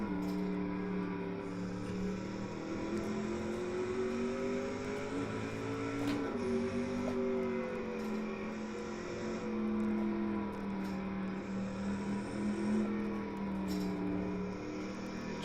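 A Dominant C9 race car engine in a video game at the Nordschleife drones steadily, its pitch rising and falling with throttle and gear changes, continuous and close, with no talking.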